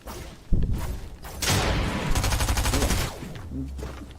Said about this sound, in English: Whoa, that SMG is so OP.